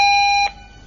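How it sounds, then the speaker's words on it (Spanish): A castle's activated alarm blares a loud, steady electronic tone for about half a second, then cuts off abruptly, leaving a faint hum. "Este es el sonido de la alarma cuando está activada."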